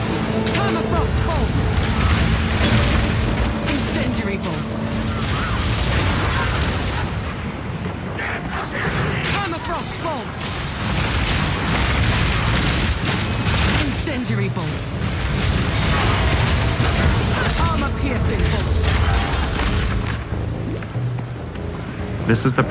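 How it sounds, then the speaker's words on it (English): Incendiary crossbow bolts exploding in Path of Exile 2 combat, producing dense, continuous rumbling blasts and crackling bursts that layer over each other with little pause. "Permafrost bolts. Incendiary bolts."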